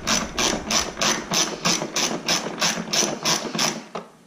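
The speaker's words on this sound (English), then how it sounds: "I'm going to take out these mounting nuts for the fuse box." A hand ratchet backs out 10mm fuse box mounting nuts on a 2005 Corvette, giving a steady run of about eleven even, close clicking strokes before it stops.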